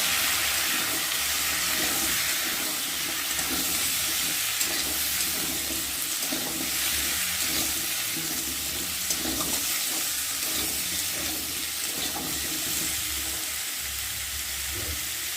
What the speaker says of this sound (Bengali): ভালো করে তেলের মধ্যে একটু কষিয়ে নেব। একটু ভালো করে নেড়ে দেবো।